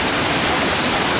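Rushing water pours steadily through the Basin in Flume Gorge, a dense, loud, continuous broadband wash with no pauses, heard up close and alone.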